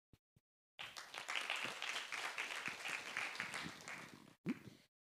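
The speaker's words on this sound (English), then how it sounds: "Please, a big applause for Dr." Audience applause for a speaker being introduced at a fintech livestream event, a steady wash of clapping that swells for about three and a half seconds, cuts off, then gives a short final burst.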